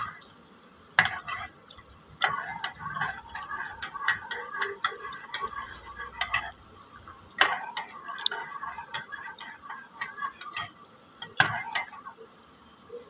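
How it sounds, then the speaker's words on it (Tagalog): A spoon stirs a hot drink in a cup, giving repeated light metallic clinks and scrapes in an uneven rhythm, close and fairly clear with no talking. "haluin ko muna ito mabuti"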